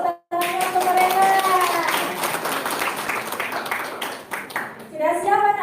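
A church congregation claps for Sunday School children at a Sunday service, bright hand claps running under a speaking voice, with a loud talker at the start and end.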